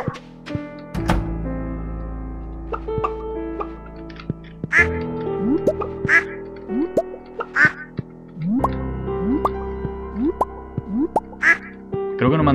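Ducks in the farming video game Stardew Valley quack in short, close bursts, mixed with game thunks, plops and pitch-sliding sound effects.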